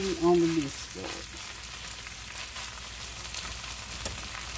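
Beef sizzles steadily in a skillet during a one-dish meal, a constant crackling fry close by, with a brief tonal clink near the start.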